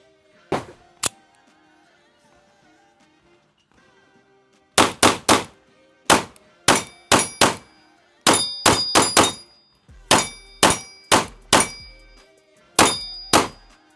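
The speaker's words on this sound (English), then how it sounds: "let's go on ahead and get some more shooting down with this guy here" A PSA Dagger full-size pistol fires at steel targets: two early shots, a pause, then quick strings of sharp cracks, each followed by a bright metallic ring from the plates.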